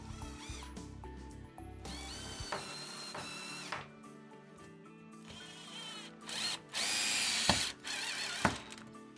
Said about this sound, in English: offer your screw up and drive that in with a cordless screwdriver